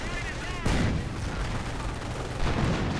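Artillery shells landing in a World War II strategy video game, two heavy booming impacts amid ongoing battlefield rumble, with a voice talking over the top.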